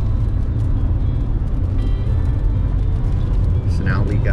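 Steady engine drone and road rumble inside a car on a long highway drive home in the rain, a constant low hum that stays even throughout.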